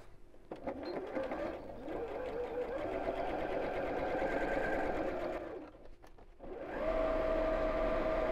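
A sewing machine stitches the edge of a simple fabric purse in two bursts of steady whirring, pausing briefly near the end before starting again, close and moderately loud; no speech.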